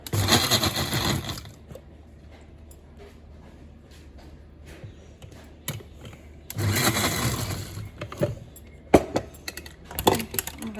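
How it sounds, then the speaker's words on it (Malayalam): A kitchen mixer grinder whirs in short bursts to break up fish roe, loud and close, with quieter pauses between the pulses. A person speaks over it. "ഇതൊന്ന് ഇതൊന്ന് പൊട്ടി വരാൻ വേണ്ടിയാണ് മിക്സി കറക്കുന്നത്"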